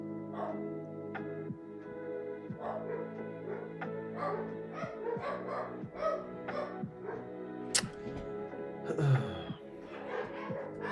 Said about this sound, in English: my dogs are going mental because the bloody postman is here